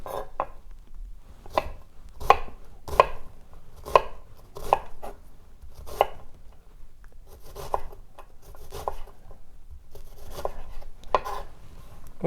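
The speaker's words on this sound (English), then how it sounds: "be careful not to cut through completely to the root." Knife slicing an onion on a cutting board, giving a steady run of close, distinct chops roughly every half second to a second, each with a sharp board knock.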